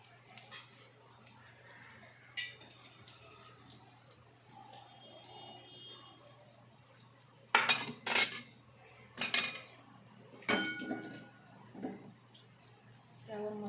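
Rice is spooned into layers in a kadhai for egg dum biryani, giving quiet scattered clinks and scrapes of a utensil against the pan, with a few sharper clatters in the middle over a faint steady hum.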